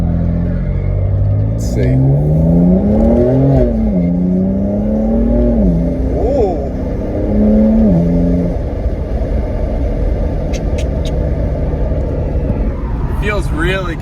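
A BMW M4 fitted with catless downpipes on its stock exhaust accelerates from inside the cabin, a deep engine note rising and falling through gear pulls over a steady road rumble, with brief talk over it.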